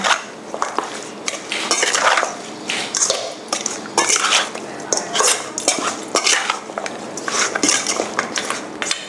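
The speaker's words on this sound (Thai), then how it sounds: "คลุกเคล้าส่วนผสมนะคะ ทั้งหมดให้เข้ากันกับซี่โครงหมูของเรานะคะ" Pork ribs being mixed by hand with marinade in a bowl, giving repeated wet squelching and clinking bursts in a steady, close rhythm with no talk.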